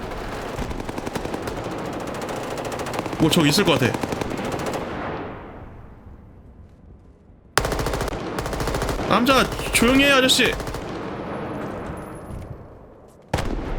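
Rapid automatic gunfire from the Roblox DEADLINE shooter game rattles in dense bursts, loud and close, with a quieter lull between volleys, while players talk over it.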